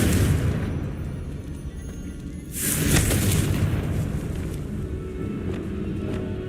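A Confringo explosive spell in Hogwarts Legacy booms into a heavy, rumbling blast midway, following and trailing off into a sustained low roar.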